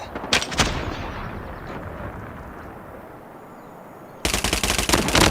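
Call of Duty Mobile gunfire: short bursts of rapid automatic fire at the start, a quieter stretch of game ambience, then a loud, sustained burst near the end.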